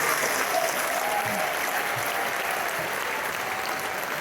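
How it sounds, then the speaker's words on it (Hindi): An audience at a live Hindi-language program claps loudly and steadily, a dense continuous wash of applause filling the room without pause. "हम सबको मिलकर के बहुत जोरदार तालियों से यूएस का धन्यवाद करना चाहिए"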